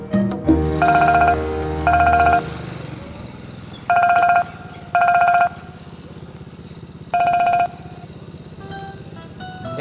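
A phone ringing out while calling a friend at a motorcycle-taxi stop: five short, bright electronic ring bursts at an uneven pace over a low, steady rumble, with no talking.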